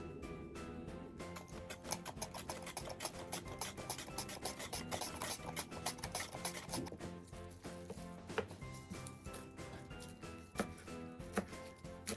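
Rapid rhythmic scraping and chopping as vegetables for Japanese namasu are run repeatedly across a slicer blade, steady strokes, close and fairly quiet.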